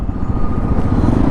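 A 2025 Hero XPulse 210 off-road motorcycle rides along, its engine a close, loud, low rumble with uneven throbbing pulses over a brief stretch.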